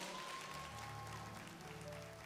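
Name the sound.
church congregation applauding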